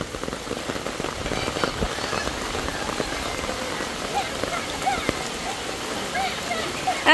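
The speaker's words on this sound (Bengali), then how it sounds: "বৃষ্টি তো সবার দৌড়ান দিছে।" Steady rain pours down with a dense, hissing patter, while voices speak and call out under the downpour.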